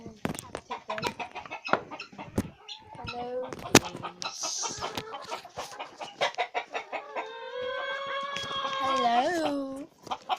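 Chickens clucking and calling in a backyard coop, busy bursts of close clucks and cackles that build into a longer rising squawk, with people talking over them.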